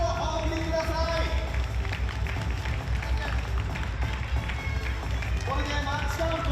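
A hall crowd at a T.League table tennis match in Numazu claps for both teams' players, a dense and steady wash of applause throughout, with a voice faintly audible over it.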